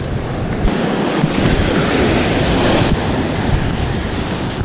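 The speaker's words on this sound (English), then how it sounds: "the waves are breaking out when the set's coming quite a long way" Winter sea waves break on a beach in a continuous loud roar of surf, with wind buffeting the microphone throughout and no talk.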